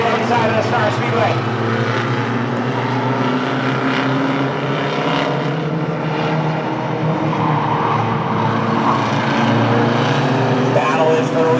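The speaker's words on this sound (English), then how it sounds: "Kyle Brunner gets the jump in truck number 51" Mighty Trucks race around the oval at Star Speedway in a heat, engines roaring loud and sustained as the field passes, with an announcer talking over the din.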